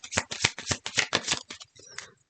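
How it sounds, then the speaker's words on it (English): A deck of cards is shuffled close up in a quick run of crisp riffling bursts that slow and fade at the end, with no talking over it. "All right, I'll shuffle these one more time."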